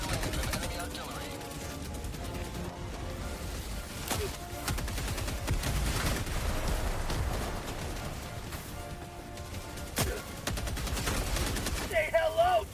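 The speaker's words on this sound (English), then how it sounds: "Warning, you are in range of enemy artillery." Video game battlefield with enemy artillery and anti-aircraft guns firing in a dense, continuous barrage of loud booms and rattling bursts under game music and effects.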